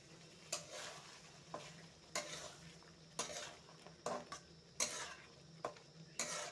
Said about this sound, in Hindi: अभी आप 5 मिनट्स में इसे फ्राई करेंगे।